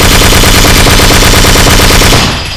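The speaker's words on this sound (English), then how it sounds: "That's me shooting." Rapid automatic gunfire from a video game, a loud, sustained burst of evenly spaced shots close by, cutting off abruptly near the end with a brief fading tail.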